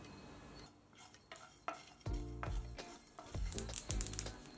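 Sesame and poppy seeds dry roasting in a pan without oil, stirred with a spoon that scrapes and taps against the metal in a quick, close, irregular rhythm, with a soft crackle underneath.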